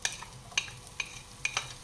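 Onion in hot oil over medium heat, a soft steady sizzle with several light scraping stir strokes from a utensil in the pan, close and fairly quiet.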